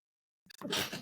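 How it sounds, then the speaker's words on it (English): A single sharp sneeze bursts out after a moment of silence, close and fairly loud, with a quick intake of breath before the main explosive release. "I gotta sneeze."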